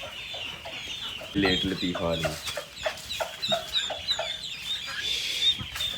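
Chickens cluck close by in short bursts, with higher chirping calls around them, as a voice speaks briefly.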